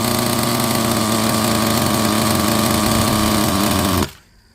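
A Team Associated RB nitro engine being broken in, its high-pitched buzzing drone running loud and steady close up for about four seconds before cutting off abruptly into quiet.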